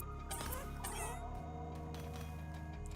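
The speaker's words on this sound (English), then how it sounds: "Did you just hear cats?" Cats meow in a video game, several short, close cat calls over a bed of game music, with no talking.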